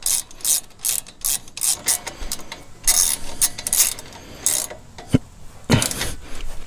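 Hand ratchet clicking in quick, uneven bursts while tightening bolts on the front brake assembly of a 2007-2014 GMC Yukon, close and fairly loud, with short pauses between strokes.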